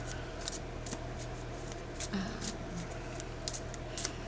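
Soft, quick shuffling of affirmation cards with light riffling bursts at irregular intervals, close and fairly quiet over a low steady hum.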